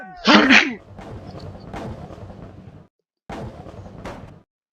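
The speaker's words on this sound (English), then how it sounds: "I don't know if you heard that, but I sneezed." A single loud sneeze near the start, followed by a steady hum of background engine or crowd noise that briefly cuts out and returns.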